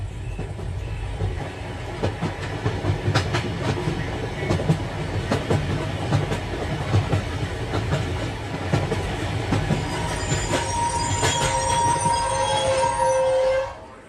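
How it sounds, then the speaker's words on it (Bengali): A train rolls steadily along the rails with a continuous low rumble and rhythmic clatter, then brakes or wheels squeal in high tones toward the end. "যথাসময়ে ট্রেন ছাড়লো।"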